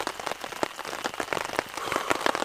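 Heavy rain pours steadily on a campsite with no tent, a dense continuous patter of drops striking gear and ground close by, with sharper nearby splats scattered through it.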